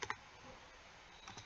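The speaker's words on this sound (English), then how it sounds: "We have to type." Faint computer keyboard typing, with a few quick key clicks at the start and end over a soft, steady background hiss.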